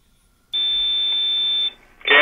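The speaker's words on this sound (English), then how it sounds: "What's that beeping sound? You trying to send a fax or something?" A steady, loud electronic tone sounds over a telephone line, holding for about a second before it cuts off into a burst of noise.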